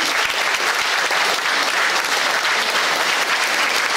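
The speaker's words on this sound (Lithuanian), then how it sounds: "Plojimai pusę valandos mažiausiai" A festival audience at a folk song performers' event claps in dense, steady applause, loud and continuous for the whole stretch.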